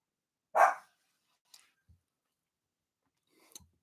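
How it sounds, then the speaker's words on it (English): One short, sharp bark from a small dog nearby, followed by faint clicks and rustles in an otherwise quiet room. "Y'all hear the way he just barks, these little barks all day?"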